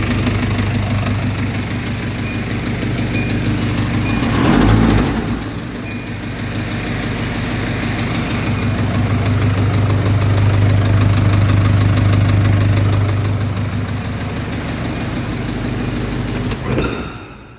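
A worn bearing knocks inside a running car engine, a steady close mechanical rumble with a rapid, regular tapping beat throughout and a brief louder surge partway through.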